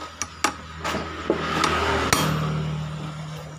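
A small hammer taps a star bolt on a fuel-injected motorcycle, several sharp metallic strikes close by, first spaced apart and then one last clang, over a low background hum.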